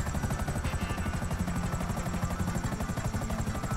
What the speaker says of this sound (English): I'm in the helicopter.